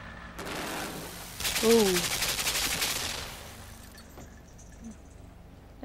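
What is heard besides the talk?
gunfire from the video game Limbo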